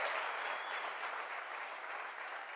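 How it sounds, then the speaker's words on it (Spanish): Steady applause from a church congregation, dense clapping blending into a continuous wash of sound with no voices above it. "Puedes darle el mejor aplauso a ese Dios"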